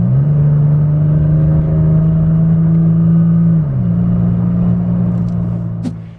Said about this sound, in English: with this exhaust you can probably hear how much better and how much smoother that shifting is